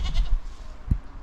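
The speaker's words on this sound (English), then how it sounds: "The goats are up here." A goat on an island, bleating in short bursts: a few quick bleats near the start, then one louder, nearer bleat toward the end, heard over faint outdoor background.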